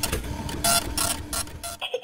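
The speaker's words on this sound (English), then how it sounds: "The printer spits out sheets of paper everywhere." Office printer rapidly printing out sheets of paper, a steady mechanical whirr with repeated bursts of feed noise over about two seconds, fairly close and continuous before stopping.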